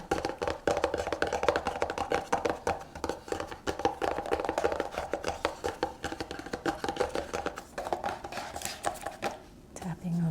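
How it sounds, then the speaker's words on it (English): Rapid tapping with fingertips and nails, a dense continuous patter of small clicks and taps close up, running steadily under a quiet speaking voice. "Tapping with your fingertips, tapping with your nails,"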